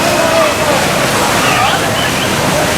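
Water pouring and splashing from log waterfalls along a lazy river at a water slide park on a seaside boardwalk pier, a steady close rushing wash with sloshing throughout.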